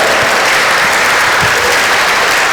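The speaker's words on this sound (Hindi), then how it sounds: "सारे बार जोरदार तालियां मैं उनके लिए" Loud, dense applause from a college orientation audience at a motivational talk for students, a continuous wash of many hands clapping with no voices over it.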